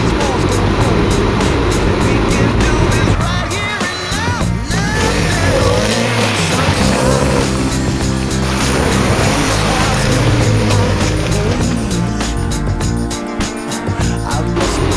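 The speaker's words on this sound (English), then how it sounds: "Here's what it might look like doing a donut from inside the car." A rear-wheel-drive car engine revs hard while tires squeal through a donut, heard from inside the car, loud and continuous, with talk mixed in over the roar.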